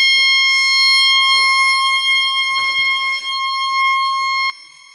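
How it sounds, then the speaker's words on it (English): A 1990s Regalsafe FS50 alarm panel sounding after activation, a loud, piercing continuous electronic tone with steady harmonic layers that holds for several seconds then cuts off abruptly near the end, no talking. "Let's activate the alarm now."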